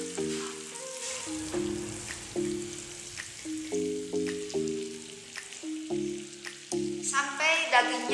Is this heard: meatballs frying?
yes